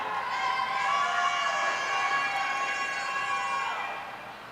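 Enthusiastic roller derby crowd in the Vernon warehouse, a sustained wash of cheering and whooping that swells, holds for several seconds, then fades.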